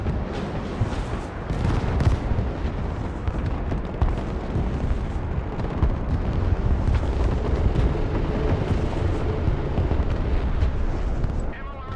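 MLRS rocket launches and explosions in a real-time strategy battle game, a dense, continuous roar of booms and rumbling blasts that stays loud and heavy for the whole stretch.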